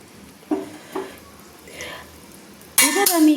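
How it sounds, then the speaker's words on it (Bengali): A spoon clinks twice against a pan of prawn malaikari with green chillies, then the curry is stirred with a louder, sustained scraping and sizzle near the end. "দিয়ে একটু নেড়ে নিলাম।"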